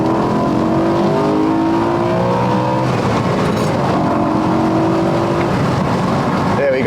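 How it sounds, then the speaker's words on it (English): A BMW M3 V8 engine with manual transmission revs hard and high toward 8,000 rpm, rising and falling in long roaring sweeps, loud and close throughout. "revving it all the way to 8"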